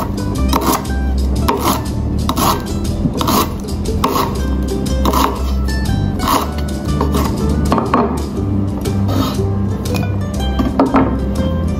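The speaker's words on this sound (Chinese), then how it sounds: "姜切片。" Sliced ginger cut with a knife on a chopping board, steady rhythmic chopping taps repeating about twice a second, close and fairly loud, with no talk.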